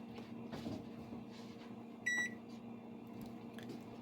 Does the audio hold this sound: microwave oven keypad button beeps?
yes